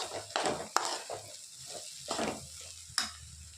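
A capsicum and egg stir-fry seasoned with pepper powder and garam masala sizzles in a pan, with a soft steady frying hiss broken by a few spoon scrapes and taps, close and without voices.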